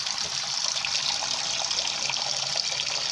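A faucet at a rural home in the Philippine provinces runs in a steady, close stream, a continuous hiss and trickle of water with no voices.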